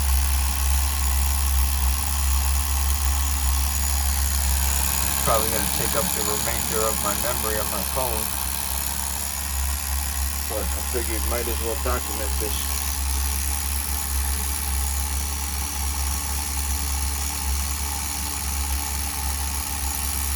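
A Tamiya TGS-R nitro RC car engine idles steadily during break-in with the carburettor at the factory setting, a loud, continuous buzzing drone that runs the whole time while someone talks over it.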